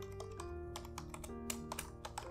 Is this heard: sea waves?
no